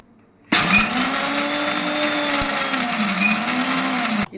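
An Indian mixer grinder grinds peanuts, sesame seeds, cumin and salt dry for a chutney, starting abruptly with a loud steady whirring drone that holds for several seconds and cuts off at the end.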